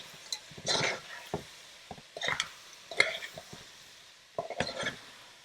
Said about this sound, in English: some black pepper, give it a stir